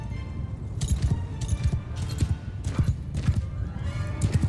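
Cavalry horses in Mount & Blade II Bannerlord produce dense, rhythmic hoofbeats and jangling tack, a continuous galloping clatter with an occasional whinny.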